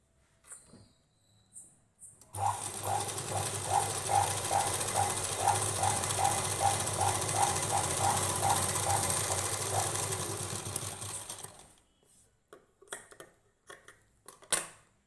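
Sewing machine stitching fabric at a tailoring lesson, a close, steady rhythmic run of rapid needle clicks lasting about nine seconds, with quiet handling noises before and after.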